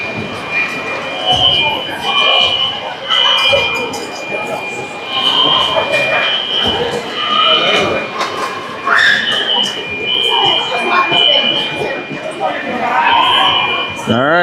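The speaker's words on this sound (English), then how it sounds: "Maybe they're checking the fire alarm that was pulled?" A fire alarm sounds through a youth hockey arena during a playoff game, a steady pulsing electronic tone repeating over continuous crowd noise and nearby conversation.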